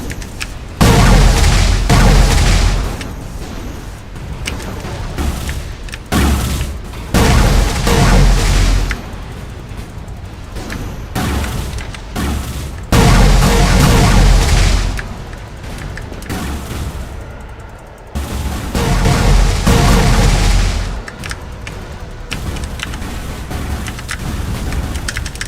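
Artillery bombardment in a space combat video game, a dense continuous barrage of heavy booms and rumbling blasts surging in loud waves, with brief lulls between volleys.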